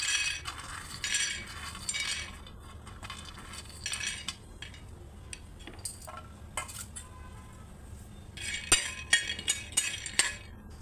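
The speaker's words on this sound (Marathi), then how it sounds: "आता तर आपण छानपैकी आता शेंगदाणे भाजून घेऊया" Peanuts roasting in a pan rattle and clink as a spoon stirs them, with bright scraping bursts coming in irregular clusters against a quiet background.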